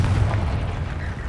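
A Confringo blast spell in Hogwarts Legacy lands with a deep rumbling boom that fills the whole moment, heavy and close, with no talk.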